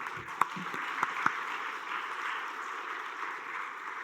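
A church congregation applauds steadily for several seconds, a dense wash of clapping with a few sharper individual claps standing out near the start.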